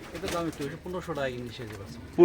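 English Sirazi fancy pigeons cooing at close range, soft throaty coos in short rolling phrases, heard alone over about two seconds.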